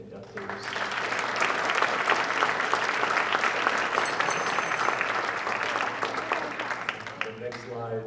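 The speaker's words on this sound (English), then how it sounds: "One more round of applause for all the inductees" Sustained applause from a large audience at a sports hall of honor banquet, steady and fairly loud throughout, with a few voices faintly audible under the clapping.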